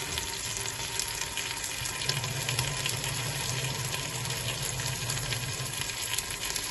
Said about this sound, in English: And then add a little bit of water.